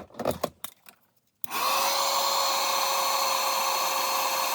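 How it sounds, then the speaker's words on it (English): A heat tool switches on abruptly after some faint handling noises and runs with a steady, loud blowing whir while heat embossing a stamped card. "I'll go ahead and heat emboss this"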